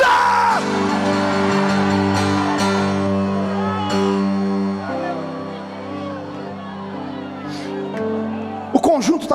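A church congregation shouts loudly together on command during a morning prayer service, a sustained massed roar over organ-like held tones, ending in a few sharp bursts.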